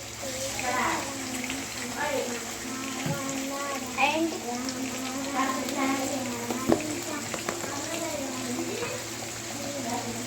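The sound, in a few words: washed greens being added to a frying pan and sizzling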